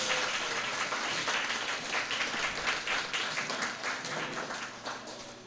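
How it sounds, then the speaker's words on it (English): An audience at a retro game development forum talk applauds, a full steady patter of many hands that swells slightly and then tapers off toward the end. "do like the applause thing or whatever"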